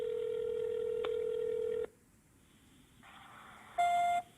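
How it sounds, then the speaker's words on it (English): A telephone dials a number: a long steady tone, then a gap, followed by a brief burst of mixed tones and a final sharp beep, clear and fairly quiet. "So I called the number."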